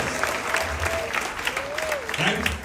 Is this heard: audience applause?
yes